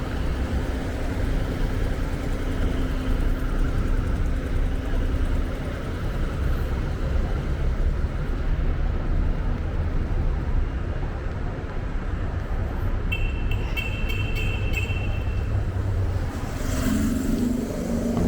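Cars passing on a city street in São Paulo's Sé district at night, a continuous loud traffic rumble and road hiss heard from the sidewalk, with faint higher tones near the end.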